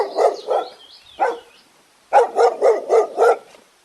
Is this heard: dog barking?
yes